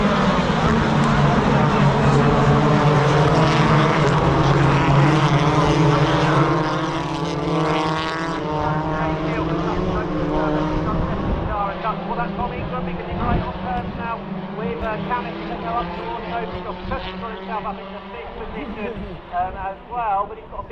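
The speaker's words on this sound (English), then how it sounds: "we're about to go racing for the touring cars. The revs are up, the noise is on" BTCC touring car engines roar at full revs as the race gets under way at Thruxton, a loud sustained drone that shifts pitch and fades slightly over about twenty seconds, with commentary talk running underneath.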